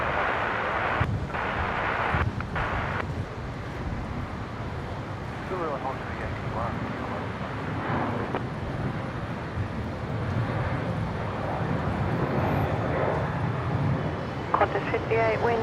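A jet airliner rolls for takeoff on runway 01 right at Brisbane International Airport, a broad, rumbling engine roar heard from a distance beneath air traffic control radio chatter and nearby voices.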